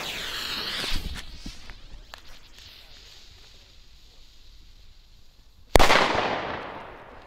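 One sharp, loud Pyrotrade Vipper 3 firecracker bang bursts near the end and rings out briefly, following a stretch of quieter outdoor noise and a faint earlier pop.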